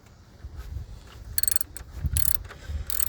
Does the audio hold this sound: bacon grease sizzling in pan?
no